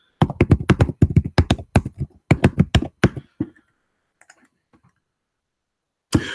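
Rapid typing on a computer keyboard, a dense run of crisp close key clicks in two bursts, then a few faint taps and a final loud keystroke after a pause.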